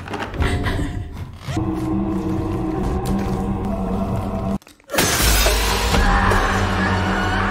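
A mirror shatters in a loud, dense burst of breaking glass, with a deep rumbling drone running underneath, a brief near-silent gap, then a second harsh crashing surge.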